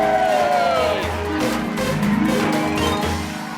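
Crowd cheering and clapping for a team at a pot-breaking contest, a dense burst of whoops and applause over background voices and music, loud and sustained before tapering.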